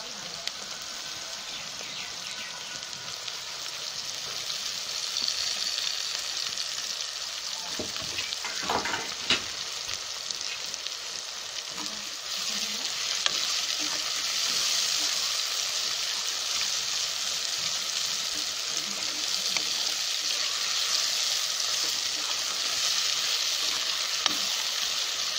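Tomatoes frying with onion in a pan for an egg curry with mukhi kochu, a dense, continuous hiss of sizzling oil with a few spoon scrapes early on, steady and close throughout.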